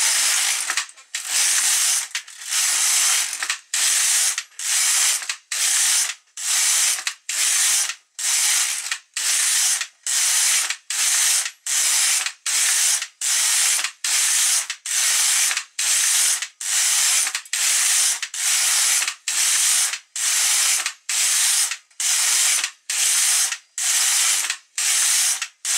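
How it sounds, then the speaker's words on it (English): A domestic knitting machine's carriage is drawn back and forth across the bed while knitting rows of a tension swatch, giving a steady run of close, loud ratcheting sweeps roughly once a second with brief pauses between passes and no talking. "I'll knit 30 more rows."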